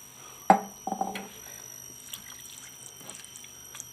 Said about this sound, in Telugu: ఇప్పుడేమో నీళ్ళు వేసుకుంటా. ఇది కలుపుకున్నానుగా, ఈ గ్లాస్ నీళ్ళు వేసేసా.